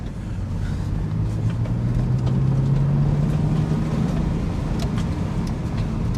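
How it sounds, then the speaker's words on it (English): A deep, steady engine and exhaust drone from a Porsche 911 997.1 Cabriolet with an upgraded Designtek sports exhaust holds at constant loudness throughout, a low rumbling note rising slightly in pitch midway, with no voices. "why the exhaust sounds so good, it's because it's got the upgraded Designtek sports exhaust"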